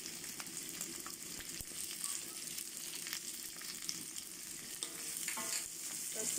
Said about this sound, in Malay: Masukkan capsicum. Kena gaul sekali ya.